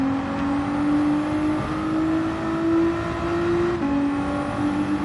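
Racing car engine from Gran Turismo GT4 racing at Brands Hatch, a steady loud sustained drone with a shifting pitch and brief gear-change dips, alone with no talk, while chasing down a Ferrari.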